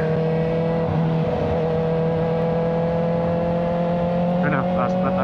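A tuned Kawasaki ZX4RR motorcycle engine and exhaust hums loud and steady at close range, with a constant tonal drone throughout and people talking over it.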